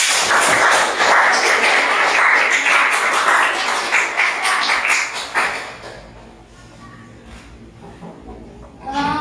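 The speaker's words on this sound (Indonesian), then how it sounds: "Tepuk tangan untuk teman kita ya." Students in a chemistry class on electrolyte and non-electrolyte solutions applaud a classmate's presentation: dense, close clapping for about five seconds, then it fades into quiet room noise with a few scattered claps.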